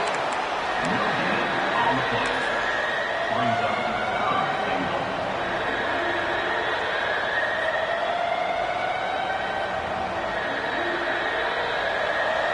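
A large college football stadium crowd roars in a steady, sustained wall of noise as the defense faces a red zone stop near the goal line, with an announcer talking over it.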